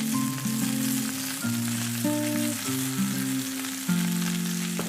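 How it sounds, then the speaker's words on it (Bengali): Pointed gourd fries in plenty of oil, a continuous sizzling hiss heard under steady background music. "কিন্তু আমি পটলটাকে একটু বেশি তেলে ভাজবো।"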